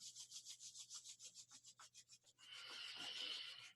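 Hands rubbing together in quick, rhythmic back-and-forth strokes, soft and close, then a steadier continuous friction rush toward the end, with no talking.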